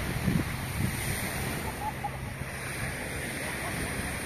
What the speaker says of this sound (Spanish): Se ve la playa deliciosa.